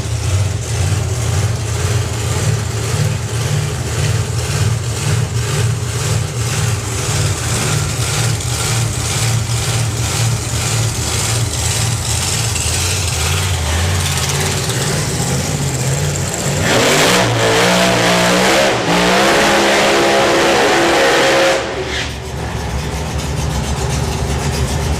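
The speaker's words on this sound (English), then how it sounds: "Lovely crisp burn out there for Kev." Comp Eliminator drag car Blown Bird rumbles with a loud, heavy supercharged engine, then revs hard into a screaming burnout with tyre noise, cutting off abruptly before settling back to a lower engine note.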